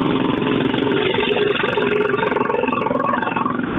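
A loud, gritty motorcycle engine roars continuously up close, a raw rumbling growl that holds steady without pause.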